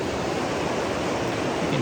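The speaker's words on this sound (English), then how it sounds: "You can hear the river in the background." Steady rushing water, a continuous broadband wash like a nearby river or stream, with no voices.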